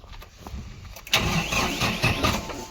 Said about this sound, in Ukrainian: Давай такої заведу, а ти там біля мотора, щоб послухати, що каже, що як робить мотор.